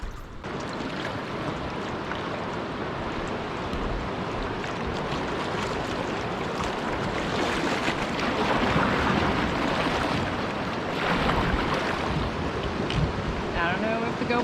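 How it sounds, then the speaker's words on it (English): A steady, broad rushing roar of falling water fills the air around a kayak on a river in Ontario crown land, with wind buffeting the microphone throughout. "that is a beautiful waterfall"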